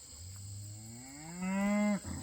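A cow gives a single long, loud moo out in a pasture on a cattle farm. It starts low, rises and swells in pitch, then breaks off abruptly, and no voices are heard.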